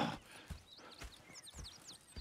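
Horses in the Red Dead Redemption 2 video game clop along with steady, even hoofbeats over a soft ambient bed, moderately close and quiet, with a few faint high calls in the background and no talk.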